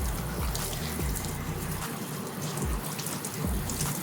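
Water runs steadily from a tap or shower as someone rinses off after a sauna, a close continuous splashing wash with low gurgling pulses.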